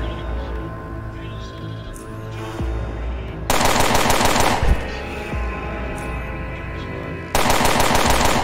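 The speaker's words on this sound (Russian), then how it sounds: "Выстрел в колено из лазерного оружия" Rapid, dense bursts of laser weapon fire in the video game UnderRail, loud and continuous, with harsher louder volleys kicking in midway and again near the end.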